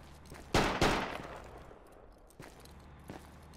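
Gunfire in the video game Project Reality: two loud, close shots in quick succession followed by fainter distant shots, over a steady low background rumble.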